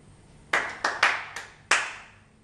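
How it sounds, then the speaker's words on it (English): Five sharp hand claps in an uneven rhythm, close and crisp, each ringing briefly into a quiet room. "maybe I'll go ahead and record some claps or something"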